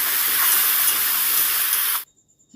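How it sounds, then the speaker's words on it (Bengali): Boiled papaya, potato and chickpeas fry in a pan with a loud, steady sizzling hiss that cuts off abruptly after about two seconds, leaving near silence; nobody speaks. "ভালো করে একটু নেড়েচেড়ে ভেজে নেব দু থেকে তিন মিনিট ভাজলেই হবে"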